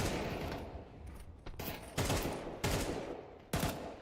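Gunfire in Counter-Strike during a competitive match, a few sharp, loud shots and short bursts with abrupt attacks and quick decays, spaced unevenly over a few seconds, with no talk over them.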